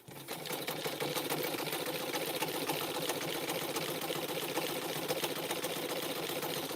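A sewing machine stitches rope to make tea cups, a steady fast mechanical rattle of needle strokes that runs continuously at close range with no pauses.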